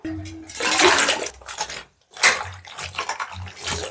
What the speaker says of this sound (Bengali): সবজিটা কিন্তু খুব সুন্দর করে ধুয়ে নিতে হবে